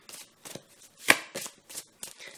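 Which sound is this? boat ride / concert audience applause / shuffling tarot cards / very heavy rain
shuffling tarot cards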